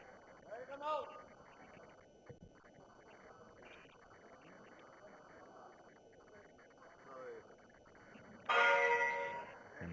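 A bell rings at a wushu sanda match, signalling the platform judge to return to the lei tai, a bright, loud burst near the end over steady arena commentary.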